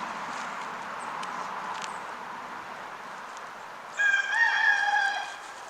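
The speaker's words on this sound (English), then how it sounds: "I know you hear that rooster in the background" A neighbour's rooster lets out one clear cock-a-doodle-doo near the end, moderately distant and louder than the quiet outdoor background, with no talking over it.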